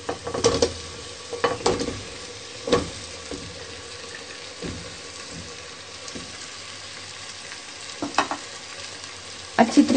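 Potatoes fry in a pan with masala, a soft steady sizzle beneath scattered spatula scrapes and clinks against the pan, close and fairly quiet.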